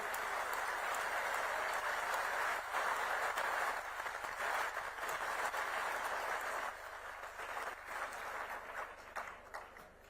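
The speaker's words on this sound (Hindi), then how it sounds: "जोरदार तालियों के साथ स्वागत और अभिनंदन करें" Audience welcoming a government minister at a Rajasthan youth skills event with loud, sustained clapping heard from a distance, the dense applause tapering off gradually near the end.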